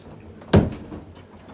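A pocket door slides into its wall pocket with a single quick thud and rumble, close and fairly loud, then fades to quiet room tone.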